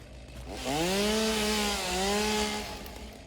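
Chainsaw in the Satisfactory video game revving up and buzzing steadily, its pitch dipping and rising again while cutting, fairly close and loud with no voices.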